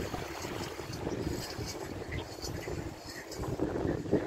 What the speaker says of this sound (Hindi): सोहनी हवा चल रही है जनाब